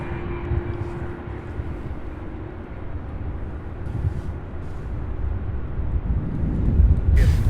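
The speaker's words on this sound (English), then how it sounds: "So as these aircraft take off," Steady low jet roar of an aircraft taking off at Louisville International Airport, heard from a distance as a continuous rumble that builds slightly toward the end, with no talk.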